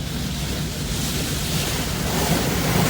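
Spot-free rinse water sprays over a car inside an automatic car wash, a loud, constant broadband rush with wind-like roar that swells slightly toward the end, heard from within the vehicle and without talking.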